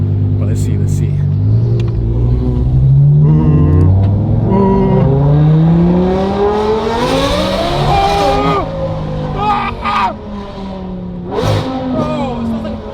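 A Lamborghini Aventador launches at a car meet, its engine revving hard and climbing steadily in pitch as it accelerates, loud and close, then easing off into rumbling burbles with a brief shout in the background.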